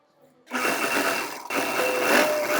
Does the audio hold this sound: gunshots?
no